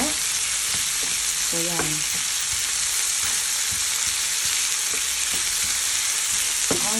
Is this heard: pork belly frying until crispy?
yes